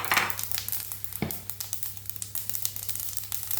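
Mustard and cumin seeds sizzling in hot oil while tempering for a curry, a continuous close frying hiss with small crackling pops and one brief louder burst.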